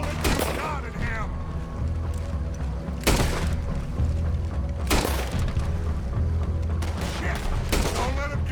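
Red Dead Redemption 2 gunfire: a few loud, sharp shots crack out over a constant heavy rumble of wind and motion, spaced a second or two apart.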